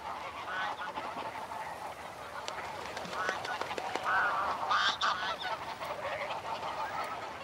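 Greylag geese honking in a busy flock on the northern French coast, overlapping calls rising and falling continuously, fairly close with rustling background noise.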